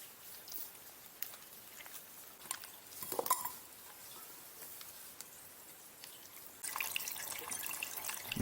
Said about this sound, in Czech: zvuk protékající vody je fakt otravnej